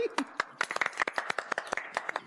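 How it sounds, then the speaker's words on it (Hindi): Several people clap hands indoors in a Hindi family sitcom scene, a quick ragged burst of sharp claps mixed with chatter and voices talking over it. "ताली बजाओ भाई"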